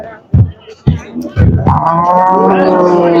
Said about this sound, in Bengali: এখানে আসলে বিশাল গরু উঠেছে এই বাজারে